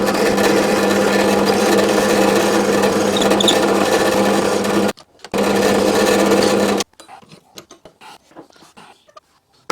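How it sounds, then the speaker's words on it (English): A 10.5mm bit bores through an acrylic pen blank, a loud steady whirring drone that runs continuously, cuts out briefly, resumes, then stops, leaving faint clicks and handling noises. "There we go, drilled, hole drilled through."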